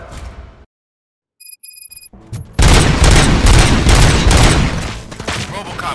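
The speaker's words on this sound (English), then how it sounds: "Gunshots? What's going on?" Gunfire in the video game RoboCop: Rogue City, a loud sustained burst of shots and booms erupting after a brief silence, continuing for several seconds.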